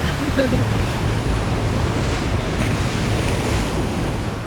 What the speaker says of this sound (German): Jeden Brecher spüren wir am ganzen Körper. Bei Wellen von schräg vorne besonders heftig.